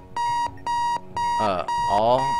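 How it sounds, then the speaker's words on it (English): Loud electronic beeping from a bomb module in the game Keep Talking and Nobody Explodes, a repeated tone in regular bursts about every half second, with a voice speaking over the later beeps. "Something is beeping really fucking loud"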